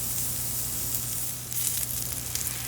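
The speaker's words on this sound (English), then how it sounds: "I'll flip it over and get a nice sear on the other side." Pork loin steak searing in a hot cast iron pan, a steady close-up sizzle and crackle of fat with a low hum beneath, no voices.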